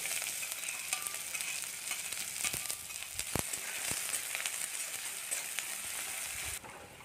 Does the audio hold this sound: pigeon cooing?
no